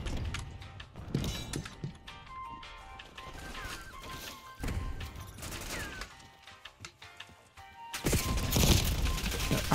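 Scattered bangs and crackles from fireworks sound through the outdoors, with intermittent bursts and a louder crackling flurry near the end.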